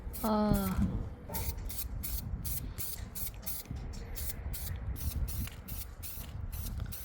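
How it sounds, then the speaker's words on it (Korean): Zinc galvanizing spray hisses onto rusty metal during gate fabrication in short, regular bursts that repeat close up, one after another, with only brief gaps between them. "아연 도금제거든. 근데 이걸로 일단은 뿌려 놓을 거야."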